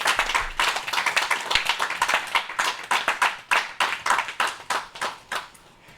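A church congregation claps in praise of the Lord, with a quick, steady run of many sharp hand claps at a lively rhythm, close and fairly loud, with no talk over it.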